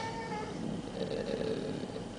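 A cat meows faintly indoors, a thin drawn-out call heard against a steady background hiss, with no talking.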